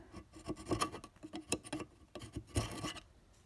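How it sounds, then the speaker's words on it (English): A plastic scraper scrapes hardened gasket sealant off a metal gasket surface, making short, uneven rasping strokes and scratchy bursts that come in quick, irregular runs at close range. "But I would say a plastic scraper, yeah, it's getting a little bit of it there."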